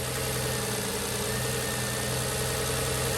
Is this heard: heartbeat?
no